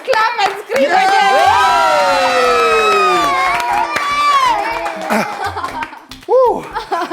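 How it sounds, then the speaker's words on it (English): Children in a studio audience scream and cheer loudly with clapping underneath, a long high-pitched crowd shout that swells and then tapers, followed by a further short burst of yells. "Let's clap and scream again."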